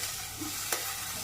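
Onions and tomatoes fry in a pan with little oil, heard as a soft continuous sizzle with a single quick scrape of a utensil.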